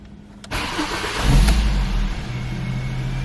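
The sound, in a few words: 2007 Ford Focus Mk II car engine starting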